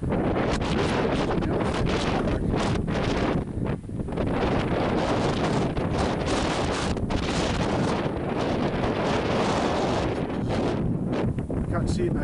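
Strong wind gusts buffet the microphone across an open hillside in the Cheviots near Long Crags, a loud continuous roar with surging, rumbling bursts and no speech.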